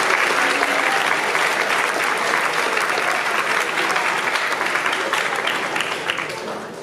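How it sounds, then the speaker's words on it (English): A large school-assembly audience gives sustained, dense applause for three honored students at a 2019 honors assembly, loud and steady for about seven seconds before beginning to fade at the end. "Once again, please give these three students a well-deserved round of applause."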